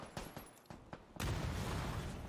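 Several sharp grenade blasts and gunfire pops sound in a competitive PUBG esports match, first a scattered series of short bangs, then a sustained loud rumble of an explosion.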